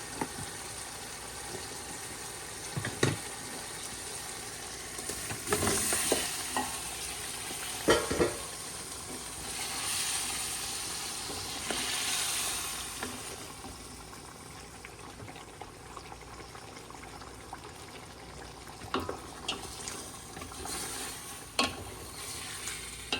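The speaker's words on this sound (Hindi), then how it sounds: "जैसे ही मसाला भून रहा है, साथ ही हम इसमें अब थोड़ा सा अपना ये जो गोश्त है वो भी ऐड कर देंगे" Beef and masala fry for a degi-style beef korma, a soft steady sizzle and bubbling close by with occasional stirring clicks and scrapes, fairly quiet throughout and without speech.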